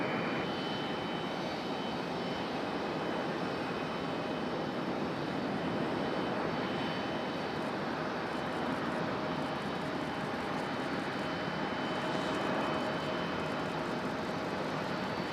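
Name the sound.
JetBlue Airbus A220 jet arriving from JFK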